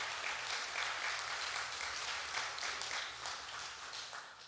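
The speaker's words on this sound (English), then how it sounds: "let's give him a thunderous round of applause" Steady, dense audience applause fills the room throughout at an evening conversation event, a continuous wash of many hands clapping with no voices on top.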